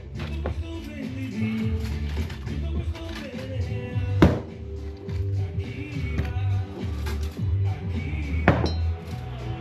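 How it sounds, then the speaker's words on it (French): Oil pump being removed from a Vespa PX scooter engine, with creaks, metallic clinks and a couple of sharp tool knocks, close up over a continuous low rumble and mechanical background. "Et on va démonter la pompe à huile."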